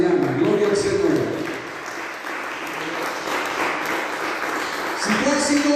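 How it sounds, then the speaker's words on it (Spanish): Congregation applauding in a church service for the men of faith, a broad sustained wash of clapping with cheering voices and a speaker's voice mixed in, fairly loud throughout. "Así que aplaudimos aquí a los hombres de fe esta mañana."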